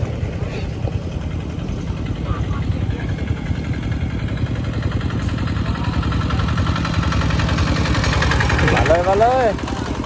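A tractor engine chugs at a steady idle in a rural setting during a Bru village wedding, holding a continuous low rumble for the whole stretch. Background voices and crowd noise mix underneath, and the engine note swells slightly near the end.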